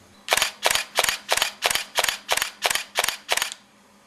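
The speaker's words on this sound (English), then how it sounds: "Continuous shooting for JPEGs remains 3 frames per second" A Canon EOS 1000D DSLR shutter fires in a steady continuous burst of about ten crisp clicks, evenly spaced, close and clear with nothing else around them.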